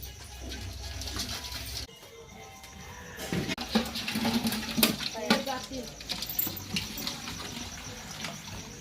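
Water splashes and pours in uneven bursts while freshly caught crabs are rinsed, with scraping and clatter close by and a voice talking over it.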